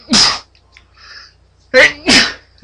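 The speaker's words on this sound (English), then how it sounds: "Achoo!" A person sneezes loudly up close, a sharp burst followed by a quieter breath and then two more quick bursts.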